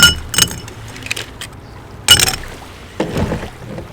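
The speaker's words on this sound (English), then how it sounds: "Just gonna fill up a glass full of ice." Ice cubes are dropped into a glass to make a Carajillo, giving several sharp clinking, rattling bursts spaced irregularly over a few seconds, close and fairly loud.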